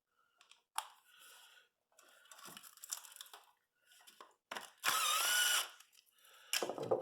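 A ratchet wrench turns a 7mm socket on the ignition module of a Pontiac Grand Prix, giving short clicking bursts and one louder sustained ratcheting run, close up and with no talk.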